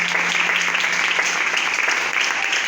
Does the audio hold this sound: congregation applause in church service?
yes